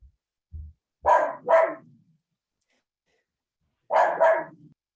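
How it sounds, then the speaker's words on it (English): A dog barks in two quick double bursts, a couple of seconds apart, close and loud against silence, coming through an open microphone during a Zoom PTSA meeting. "hear your dog."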